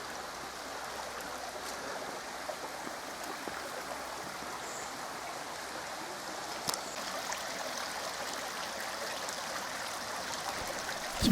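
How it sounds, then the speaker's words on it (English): Water flows steadily in a stream at Llandrindod Wells, Wales, a soft continuous rushing burble with no voices, fairly distant and even. "And I can hear water."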